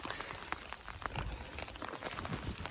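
Steady rain falls all day on a cold outdoor trail, a broad continuous hiss with scattered drop patter, moderately loud and unbroken.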